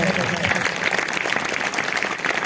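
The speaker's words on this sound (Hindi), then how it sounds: "अगर आई है तो जोरदार तालियां बजाएंगे" A congregation at a church sermon clapping steadily, a dense wash of applause filling the space at moderate volume, with a few voices mixed in.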